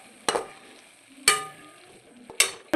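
Green peas frying in masala gravy in a pan, three short bursts of sizzling as the mixture is stirred, with quiet gaps in between.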